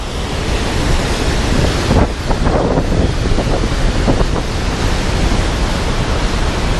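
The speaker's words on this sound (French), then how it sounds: "là on se rapproche de la cascade" A roaring waterfall in Yosemite National Park sprays mist nearby, a loud, constant broadband rush with wind buffeting the microphone.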